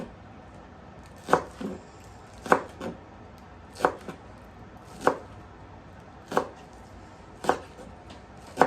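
Green onions are chopped on a cutting board, seven sharp knife strikes at an even, unhurried pace, each a crisp close thunk, with no voices.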